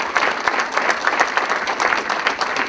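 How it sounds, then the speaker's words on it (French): An audience applauds council members at a municipal meeting, with brisk, even clapping from a modest crowd at moderate volume and no talking over it. "je pense qu'ils méritent qu'on les applaudisse"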